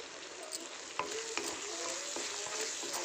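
Curry with garam masala and coriander stirred in a pan sizzles steadily, with a spoon clicking and scraping against the pan in irregular strokes. The sound is close and moderately quiet, with no voices.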